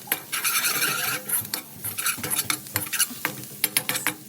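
Egg fried rice with spices is stirred in a pan, producing close, busy scraping and tossing with a light sizzle and irregular utensil taps, no voices.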